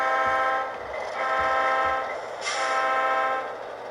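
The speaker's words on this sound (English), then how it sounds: "3 toots means we're about to back up." A BN model train locomotive horn on a layout sounds three short toots in a row, steady mid-loud tones over a faint hum of running equipment.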